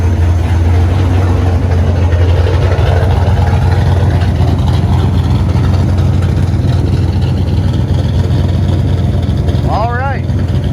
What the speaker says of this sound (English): Then we'll start the car and let you hear it.